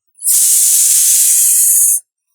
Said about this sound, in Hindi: चलिए इसमें 3 विसल आ गई है।